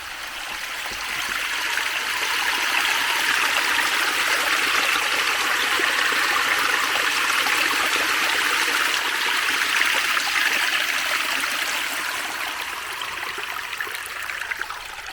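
Steady rushing and trickling of a flowing forest stream, close and continuous, swelling slightly then easing toward the end.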